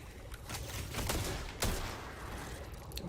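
Sustained gunfire from a weapon in the sci-fi shooter Destiny 2, several dense, loud shots mixed into a continuous roar of combat noise, with no talking.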